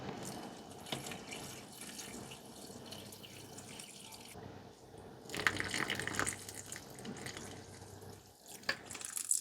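Water pours and trickles close by as a potted plant is watered, with splashes and dripping that swell midway, then settle into quieter drips.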